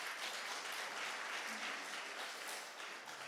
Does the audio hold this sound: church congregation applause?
yes